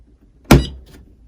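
A single sharp latch snap of a Cricut Mug Press closing, a firm thunk with a brief rattle trailing off, close and loud in an otherwise quiet space.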